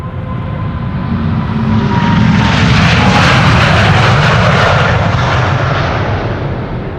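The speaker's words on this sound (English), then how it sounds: "747 departing parallel from the center runway." A Boeing 747 departs from the center runway at Schiphol Airport, its engines swelling into a loud, broad roar that peaks mid-pass and slowly fades as it climbs away.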